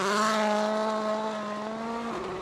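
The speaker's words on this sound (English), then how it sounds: "we've joined Sébastien Ogier, fresh from his second stage win in the Volkswagen Polo" Volkswagen Polo rally car on a snowy stage of Rally Monte Carlo, its engine holding a loud, steady high-revving drone with a slight pitch shift, close by and alone without talk.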